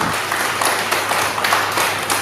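Steady applause from an audience at a celebration honoring Papa Tosibe, dense continuous clapping that stays loud and even throughout with no voices rising above it.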